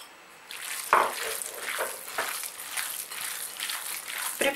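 Minced chicken fillet being mixed by hand with salt and pepper in a bowl, a series of wet, squelching pushes and slaps at close range, moderately loud, with no one speaking.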